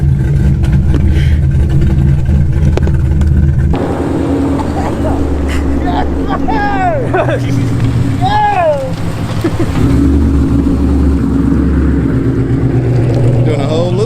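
A 6th gen Camaro's engine drones and accelerates, heard from inside the car as a steady low roar with a shift partway through, while people talk and exclaim over it.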